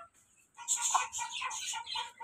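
Close, fairly faint hen clucking in a quick run of soft, bubbling calls after a short quiet pause, with light farmyard background and no talk.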